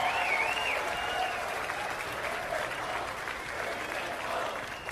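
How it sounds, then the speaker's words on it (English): A large crowd at a Canadian election rally breaks into sustained applause, a loud, even roar of clapping mixed with whistles and cheers that holds steady the whole time. "a round of applause for Adrian Woolley leading the charge in the entire country."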